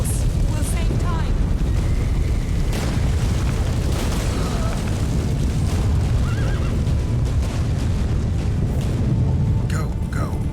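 A horse neighs and whinnies several times in The Witcher 3 video game over a loud, steady rumble of booms and explosions, the calls short and fairly close.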